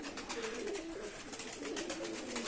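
Many Mardin tumbler pigeons, around fifty in a loft, coo in overlapping low warbling phrases, a continuous close chorus over a steady background.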